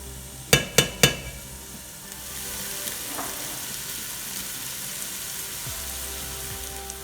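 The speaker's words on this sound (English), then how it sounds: "you'll saute the mix until it becomes translucent" A vegetable mix for vegetarian white chili sautés in a pan. Three sharp utensil knocks ring out first, then a steady, even sizzle carries on close up.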